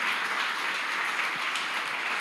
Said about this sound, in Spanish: aplauda a Dios, bendito sea el Señor, démosle aplauso al Señor.